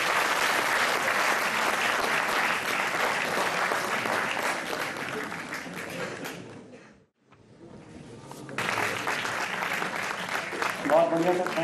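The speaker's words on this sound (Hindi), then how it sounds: "प्लीज तालियों में कमी ना करें।" Sustained audience applause at a university science conclave, loud and dense with many hands, breaking off briefly into near silence midway before resuming strongly to the end.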